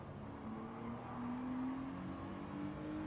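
A touring car engine in Gran Turismo 7 at Spa drones steadily under acceleration, its pitch rising slowly in one continuous, fairly loud tone.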